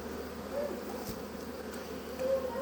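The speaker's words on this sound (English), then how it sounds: "there's a bee on my phone right now" A honeybee buzzes steadily at a homestead beehive during mite-treatment work, a faint, continuous drone over outdoor background noise, with no talking.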